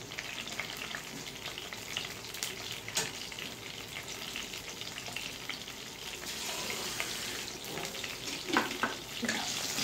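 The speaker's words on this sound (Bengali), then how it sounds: "ভেজে নিতে হবে।" Fish sizzling and frying steadily in oil with nigella seeds and green chillies, a continuous close crackle with occasional stirring and brief louder spatters, no talking.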